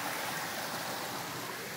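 Steady rushing water of a nearby creek, loud and continuous with no pauses or other sounds.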